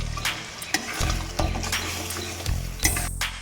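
Mustard paste mixed with turmeric fries in a pan, a continuous low sizzle punctuated by short scraping stirs, close up and without talking.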